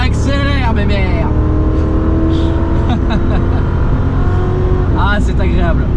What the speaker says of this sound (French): on est à 60, allez c'est parti, kickdown